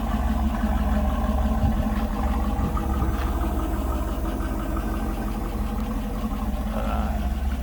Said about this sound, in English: you can hear the fuel injectors. A little noise to them.